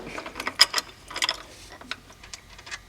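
Rapid ratchet clicks from a wrench loosening a nut on the oil cooler housing of a VW Passat 2.8L V6, close up in bursts of quick clicking with brief pauses between strokes.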